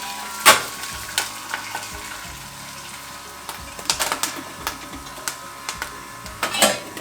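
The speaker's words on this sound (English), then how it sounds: "It's really popping up now." Blue raspberry popcorn pops in a covered pot with irregular sharp pops and clicks against a steady sizzling background, close and fairly loud, with no talking.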